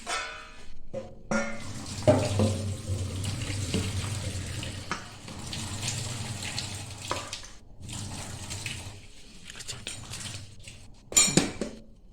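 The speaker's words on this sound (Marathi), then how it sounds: "आता हे ना आपल्या चाळणीतून गाळून घ्यायचे" Half-cooked hakka noodles are strained through a colander, water running and splashing steadily with occasional clinks of cookware, close and moderately loud with no talking.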